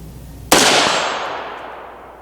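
A rifle with a PSA FN barrel firing heavy-weight 75/77 grain ammunition during an outdoor accuracy test lets off one sharp, loud shot followed by a long decaying echo.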